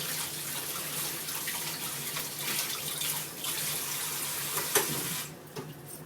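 Vegetables washed under a running kitchen tap while cooking Filipino ginisa: a steady, moderately loud rush of water splashing into a sink that stops near the end, with a few faint clinks and no talking.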